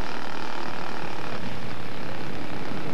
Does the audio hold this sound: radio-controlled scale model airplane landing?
yes